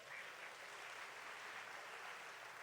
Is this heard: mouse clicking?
no